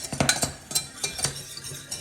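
A whisk stirs flour into melted butter for a roux in a pan, making quick rhythmic metallic clinks and scrapes, close and moderately loud, with no one speaking.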